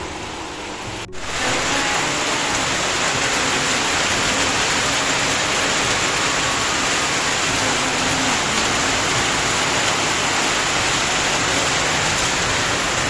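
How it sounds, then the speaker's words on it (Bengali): Heavy rain pours down steadily, a dense broadband hiss that starts abruptly after a second and stays loud and even throughout, with no talk. "কি দারুণ বৃষ্টি হচ্ছে"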